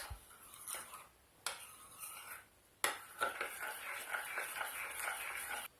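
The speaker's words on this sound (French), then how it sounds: "Donc j'ai mis les 2 yaourts dans le chocolat et donc je remue le tout." A spoon stirring two yogurts into melted chocolate in a bowl, soft scraping and occasional sharp taps against the bowl, quiet and close, with irregular strokes.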